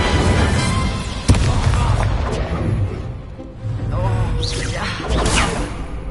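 Fire spell cast in the Hogwarts Legacy video game, a loud whooshing burst with a sharp crack, rumbling combat effects and bright swishing flourishes around it, with a voice calling out.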